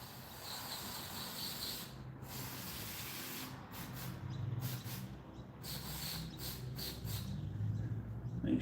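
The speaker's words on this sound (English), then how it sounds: "Give them a spray." An aerosol can sprays cleaner onto parts of a Yamaha XS250 motorcycle, a steady close hiss broken by several short bursts and pauses, with faint clinks underneath.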